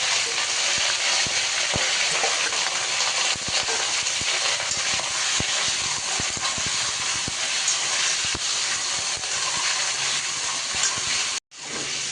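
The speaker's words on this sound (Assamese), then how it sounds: "এইখিনি মাংসখিনি প্ৰথমতে মই মাংসখিনি পিঁয়াজ নিদিয়াকৈ ফ্ৰাই কৰি ল'ব লৈছোঁ" Broiler chicken pieces sizzle steadily in hot oil, fried without onion, a dense hiss with scattered pops and crackles that goes on for several seconds before cutting off abruptly.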